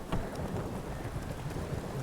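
A horse gallops in The Witcher 3: Wild Hunt, its hooves giving a steady, muffled drumming under a constant wash of game ambience and wind.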